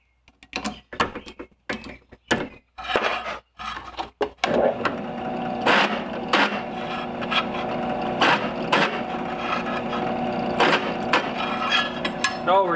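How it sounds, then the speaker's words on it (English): A machine hums steadily under repeated metallic grinding as a large drill bit in a drill press chamfers holes in steel for a knife, preceded by a few sharp knocks and clatters. "I just put a large drill bit in my drill press"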